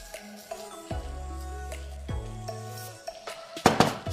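Native rice being stirred and fried in a pot, with repeated clinks and scrapes of a utensil against the pot, a low cooking hum underneath, and a brighter cluster of clatter near the end.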